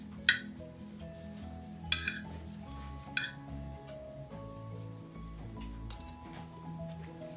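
A spoon clinks and scrapes against a dish of Peruvian ceviche, raw fish cured in lemon, with three or four sharp, close metallic taps spaced over a quiet background hum and no talking.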